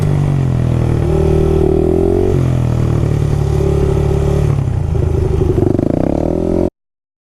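Loud, continuous engine drone from a Yamaha WR250X dirt motorcycle held in a wheelie, the pitch rising and falling with throttle changes and a mechanical clatter running under it, heard alone with no talk.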